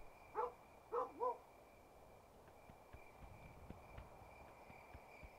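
Dog barking in the Kingdom New Lands video game: three quick, fairly loud barks in close succession near the start, followed by soft, scattered game sounds and faint clicks.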